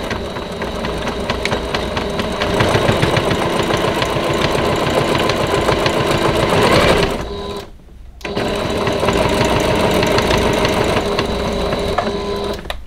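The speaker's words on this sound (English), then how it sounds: "you just start sewing. You back stitch here." A sewing machine runs steadily, stitching a hang towel with a fast, even mechanical chatter, then pauses briefly for a back stitch before resuming at the same pace.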